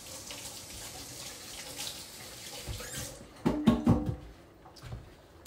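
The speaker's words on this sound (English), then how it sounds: "Let me wash my hand off a little bit." A kitchen tap runs as a hand is rinsed of peanut butter, with soft background noise at first, then a short splashy burst of water and a few drips and rubs at close range.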